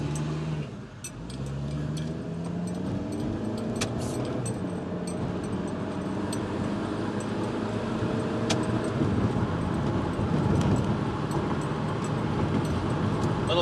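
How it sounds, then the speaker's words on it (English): A 2008 Honda Element SC, front-wheel drive, launches from a brake-torqued start with a little wheel spin, its engine climbing steadily and loud from inside the cabin over road noise. "A little bit of wheel spin off the start"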